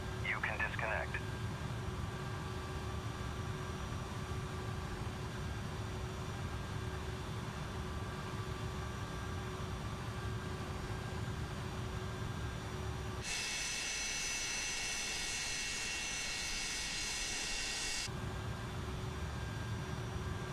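Jet engine number one spooling up on a Maddog MD-82 airliner in Microsoft Flight Simulator 2020, a steady broadband rumble with a steady whine, a bright high-pitched hiss rising midway for several seconds, faint talk underneath.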